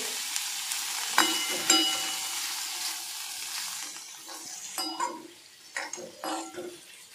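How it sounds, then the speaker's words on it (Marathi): Small paneer cubes fry in butter with a bright, hissing sizzle that fades partway through, then sharp spatula clicks and stirring knocks follow near and clear. "आता ते बटरमध्ये फ्राय करून घेते"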